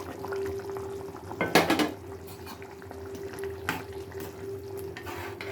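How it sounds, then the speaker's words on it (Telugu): Ghee-fried paneer pieces tumble into a pan of simmering curry with a brief clatter and splash near the middle, followed by soft stirring and a steady low bubbling hum. "ఇప్పుడు నేతిలో వేయించిన పన్నీర్ ముక్కలు వేసేద్దాం."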